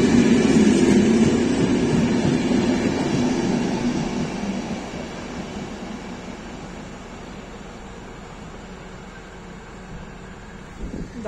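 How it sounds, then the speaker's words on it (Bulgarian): A train to Burgas rumbles and rolls away from Stamboliyski central station, loud at first then gradually fading into a steady, more distant drone. "там тръгна влака за Бургас"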